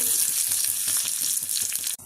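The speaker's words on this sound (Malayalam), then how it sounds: "വെളിച്ചെണ്ണ ഒഴിച്ചു ചൂടായി നമുക്ക് കടുകിടാം അതിലേക്ക് കരിവേപ്പിലയും മുളകും ഇട്ടു" Mustard seeds, curry leaves and chillies fry in hot coconut oil, giving a loud, close, continuous sizzle with rapid crackles and spits that cuts off abruptly at the end.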